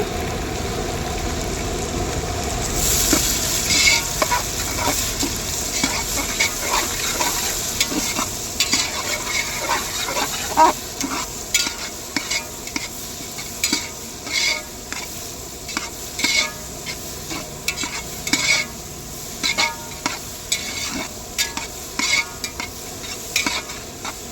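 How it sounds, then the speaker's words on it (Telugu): Onions fry in oil for a Dhaba-style broad bean and tomato curry, a steady close sizzle with repeated scraping stirs of a spatula growing more frequent, no voices. "ఆనియన్స్ని ఆయిల్లో కొద్దిగా ఫ్రై అవ్వనివ్వాలి"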